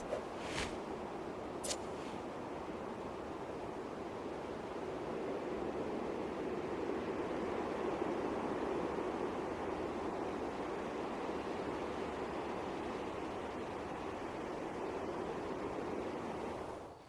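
A waterfall in The Sims 3 video game gives a continuous, even rushing roar of falling water that stays steady throughout, with two brief clicks near the start.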